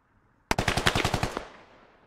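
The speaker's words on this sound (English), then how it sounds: "I can't tell where anyone's shooting right now." Burst of automatic gunfire in the tactical shooter game SquadOps, about ten rapid sharp shots in a quick rhythm after a brief quiet start, then a fading echo tail.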